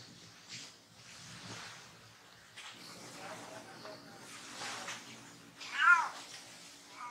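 Cats at a cat sanctuary meow and cry in several overlapping calls, with a louder, drawn-out meow near the end over soft background noise.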